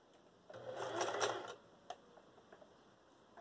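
A sewing machine runs a brief backstitch on fabric, giving one short whirring burst of stitching followed by a few faint mechanical ticks in a quiet room.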